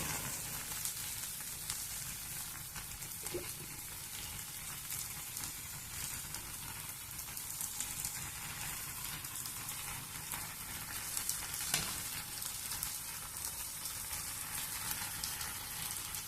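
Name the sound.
potatoes frying in a pan for potato curry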